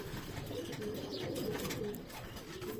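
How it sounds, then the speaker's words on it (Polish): Young male pigeon cooing in a loft, soft low throaty coos repeating over a faint background hum, fairly quiet and unaccompanied by talk. "o jest tam jeszcze samczyk, grucha"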